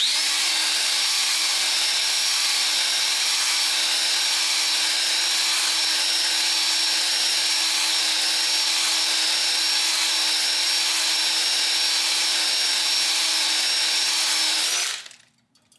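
A drill-driven cylinder hone works up and down inside an engine's cylinders during a motor ring job. It gives a steady, loud mechanical whir with a constant whine that runs unbroken, then cuts off abruptly near the end.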